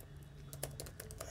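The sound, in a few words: typing on a computer keyboard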